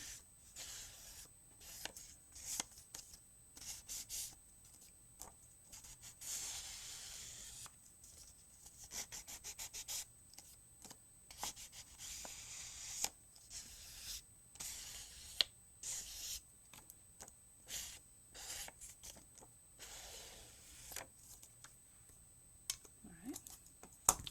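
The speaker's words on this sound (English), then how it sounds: "Let me edge the paper." Paper is edged for a handmade podium card, giving repeated close, quiet rubbing and rasping strokes in uneven bursts throughout.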